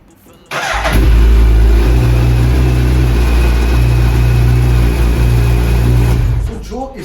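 A 2021 third-generation Suzuki Hayabusa motorcycle fires up and holds a loud, deep, steady engine roar close by for about six seconds before it drops away.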